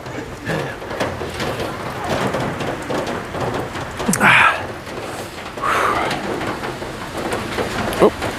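Steady rain falls outdoors in Kutaisi, Georgia, a dense, close hiss of drops with a few louder splashes, while a person can be heard faintly sighing or talking.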